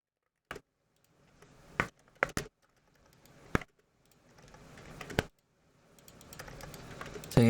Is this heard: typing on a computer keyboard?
yes